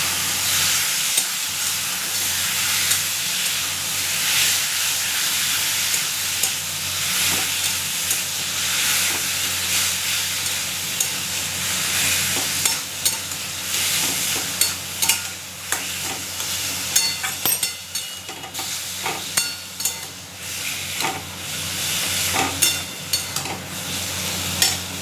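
Taro greens frying in a pan with chilli, peanuts and chickpeas are stirred continuously, giving a steady close sizzle with scraping spoon strokes and small crackles throughout, no voices.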